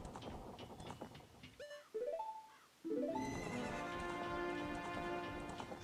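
Horses whinny loudly in The Legend of Zelda: Majora's Mask over hoofbeats and a busy rumbling background, one long neigh rising and falling near the end.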